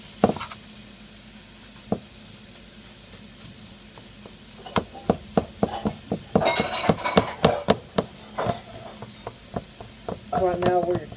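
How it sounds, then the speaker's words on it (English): Ground meat for taco soup sizzles in a pan while a spatula stirs and scrapes it, giving a steady frying hiss broken by frequent sharp clinks and taps that grow busier toward the end. "Right now where you're cooking the meat though"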